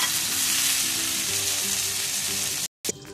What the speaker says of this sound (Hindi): अब मैं मज़ीद 3 से 4 मिनट तक इसको दूसरी तरफ से भी फ्राई करूँगी